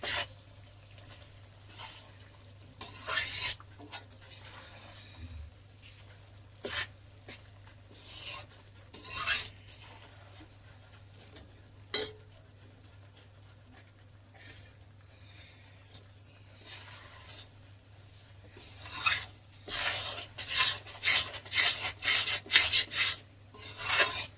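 Flour roasting in ghee in a pan while being stirred gives intermittent scraping, rasping strokes, close by, with quieter sizzling in between and denser, busier stirring toward the end; no one speaks.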